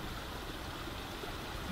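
A small spring-fed creek along Deer Springs Road, flowing ice-free in winter, gives a steady, even rush of running water with no pauses or voices.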